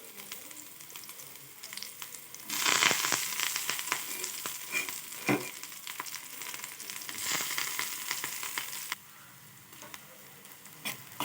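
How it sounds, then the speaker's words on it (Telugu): Onion, green chilli and curry leaves dropped into hot oil, bursting into a loud close sizzle that holds for several seconds, with a few sharp ticks and stirring scrapes, then settles to a quieter fry. "ఇప్పుడు వచ్చేసి ఉల్లిపాయ ముక్కల్ని వేసుకుందాము పచ్చిమిర్చి కరివేపాకు"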